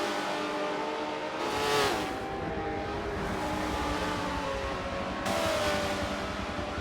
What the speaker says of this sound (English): Adler gets to the bumper of Savitar, hits the brakes really hard right there